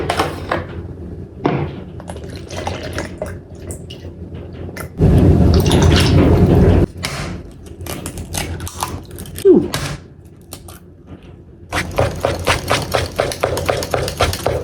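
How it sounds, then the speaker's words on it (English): About 100 ml of milk pours from a container for Christmas baking, a steady liquid rush lasting about two seconds amid quieter kitchen clatter and taps. "Pour that in, and then 100 mils of"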